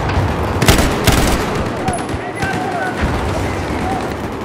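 Gunfire in a Battlefield 4 match: a few sharp close shots crack early, followed by scattered distant firing and ambient battle noise, with players talking over it.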